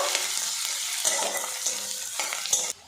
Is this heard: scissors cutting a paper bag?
no